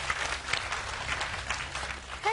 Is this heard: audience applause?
yes